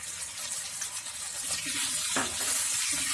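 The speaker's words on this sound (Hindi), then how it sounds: "नेक्स्ट इसमें धीरे धीरे से मसाला डालते जाइए और इसे भूनते जाइए।" Masala frying with mutton on a tawa, a soft continuous hiss and sizzle with faint stirring throughout, fairly quiet and without talk.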